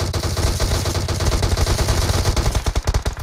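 Gunfire in PUBG: rapid automatic bursts rattle on without pause, loud and close, growing sharper and punchier toward the end.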